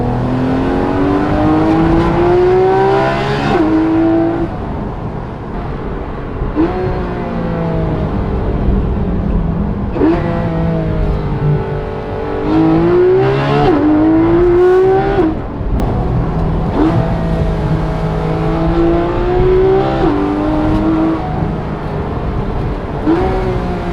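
A Porsche GT3 RS exhaust screams at high revs with sweeping rises and falls through downshifts, loud and continuous throughout.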